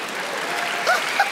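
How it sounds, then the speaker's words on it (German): A studio audience at a live German talk show claps together in a dense, steady burst of applause, with a couple of brief voices calling out over it. "Und alle, die jetzt einschalten, werden auch mal klatschen"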